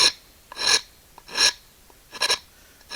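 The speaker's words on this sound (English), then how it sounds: "we'll take Mr. Rasp, and we will start taking off all of that material" A hand rasp files the wood of a hatchet handle, shaping a tenon for a Norlund Hudson Bay head. Four separate rough, breathy strokes scrape close by, spaced by short pauses, with no talking.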